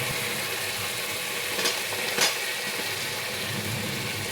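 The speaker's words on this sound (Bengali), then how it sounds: "মশলা থেকে তেল বেরিয়ে গিয়েছে, মশলাটা কষা হয়ে গেছে। এর মধ্যে দিয়ে দেবো কেটে রাখা আলু।" Cut potatoes drop into spiced masala frying in oil, giving a steady loud sizzle throughout with two brief sharper crackles as pieces hit the hot pan.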